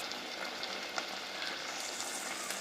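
Masala mixed with tamarind water sizzles and fries in a pan, a steady close hiss with small scraping stirring ticks throughout and no voices.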